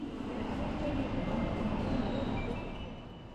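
Steady low rumble of Yongsan railway station, a train hum and platform ambience drifting at moderate distance with no voices.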